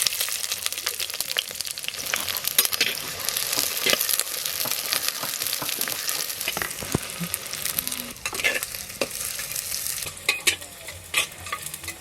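Onions and green chillies fry in hot mustard oil with a steady close sizzle, broken by scraping stirs and clatters of a spoon against the pan.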